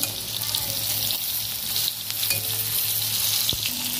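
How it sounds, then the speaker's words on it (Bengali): Slices of pointed gourd (patol) fry in a pan with a steady, close hiss of oil, spiked by a few brief clinks and stirring scrapes; no one speaks. "এবার উল্টে আর একটা সাইড ভেজে নেব"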